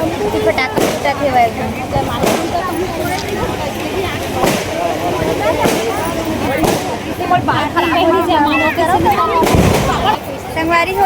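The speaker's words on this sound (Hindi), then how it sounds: "पटाखे पटाखे" Firecrackers go off at a wedding reception: a string of sharp, loud bangs at irregular intervals over a constant murmur of crowd and background noise.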